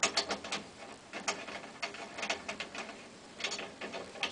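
Quiet, irregular metallic clicks and ratcheting turns come in short bursts, like snare drum lugs on a Tama drum being tightened by a key.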